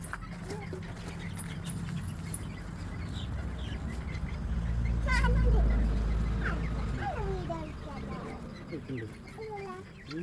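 Chickens cluck and squawk in a yard in short scattered calls while a person talks over them nearby and a low rumble swells midway.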